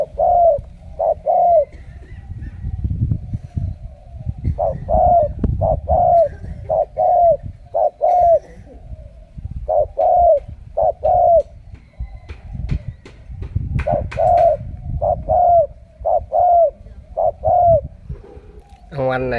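A dove coos again and again in short, rhythmic phrases, loud and close, with brief pauses between bursts and a low background rumble.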